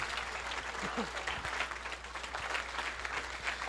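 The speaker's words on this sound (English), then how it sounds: "I think we should give all of the community a big round of applause for the support" Spectators at a youth swine market show give a round of applause for the community, a steady wash of clapping throughout with a brief voice briefly audible beneath it.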